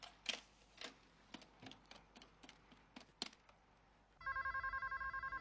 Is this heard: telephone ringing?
yes